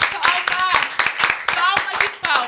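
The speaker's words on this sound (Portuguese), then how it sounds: "palmas e palmas." Hands clap rapidly and repeatedly in a lively, steady rhythm, loud and close, with voices speaking over the applause.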